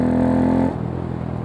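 A Honda Grom motorcycle at full throttle sends out a close, strong engine drone that holds steady, then drops off sharply into a rougher, lower rumble as the revs fall.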